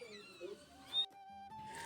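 Faint, high meows from a small cat sound in a quiet room, with a few soft voices and light movement nearby.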